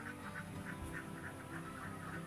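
Egg-laying ducks kept free-ranging quack repeatedly in a steady series of calls, faint and somewhat distant over a constant outdoor background hiss.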